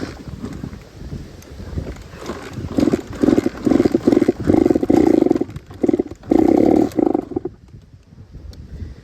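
A Honda CR80R two-stroke dirt bike engine runs rough and poorly in cold weather, giving loud pulsing blasts of revving with wind buffeting the microphone, then dropping to a quieter idle near the end.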